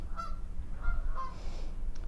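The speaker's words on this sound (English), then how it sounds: "We are starting to have geese come closer and closer to our tent" Geese honking close to a commentary tent at a summer nationals boat racing event, several short nasal honks in quick succession over low background noise.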